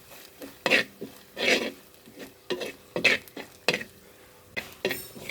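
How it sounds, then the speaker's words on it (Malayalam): Spices such as chilli powder and coriander powder being stirred in a pan while sautéing for a coconut fish curry, with repeated spoon scrapes and clinks against the pot in short bursts and a faint sizzle beneath. "നന്നായിട്ട് നമുക്ക് വഴറ്റിയെടുക്കാം"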